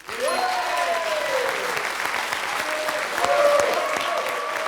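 The studio audience of Questions pour un Super Champion bursts into applause after a correct answer, a full, steady crowd clapping that swells slightly near the end, with gliding musical tones over it.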